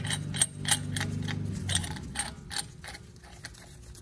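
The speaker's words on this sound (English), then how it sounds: "Then you go ahead and screw it so it can get tight." A ratchet tightens a brake caliper bracket bolt with a run of close, rapid mechanical clicks, followed by a few slower metallic clacks and taps as the tool is repositioned. No talking is heard.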